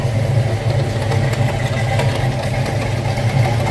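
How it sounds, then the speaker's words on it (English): A 289 V8 engine in a 1965 Ford Mustang convertible idling with a steady, deep, burbling rumble, close by and continuous, with no voices. "Got a little rumble coming out of that 289"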